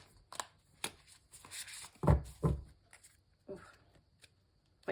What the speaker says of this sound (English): Ooh, yeah, that was a terrific shuffle.